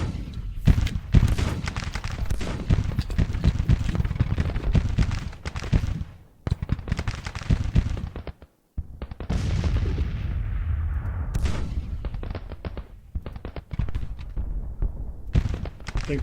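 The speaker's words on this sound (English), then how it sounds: "Got artillery up here on the crest." Artillery in Grand Tactician: Civil War, Union guns on a mountain crest in East Tennessee, firing repeated booming salvos in dense overlapping volleys, with a brief lull before the cannonade resumes.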